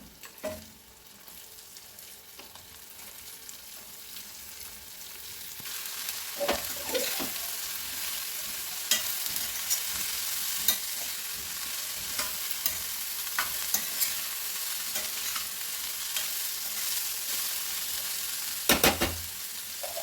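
Steady sizzling of shredded cabbage stir-frying in a pan, with occasional scraping stirs and a couple of sharper clanks near the end; no voices.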